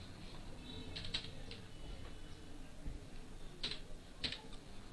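Typing on a computer keyboard while filling out an online job application form, with scattered soft key clicks and a few sharper taps over faint background noise.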